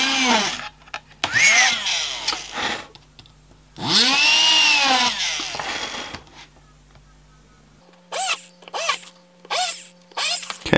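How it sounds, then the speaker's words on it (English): A small homemade electric drill whirs close by in several short bursts, drilling circuit board pads, each spinning up to a high whine and winding back down, with quiet pauses between. "I'm just, as I say, going to drill out all these pads."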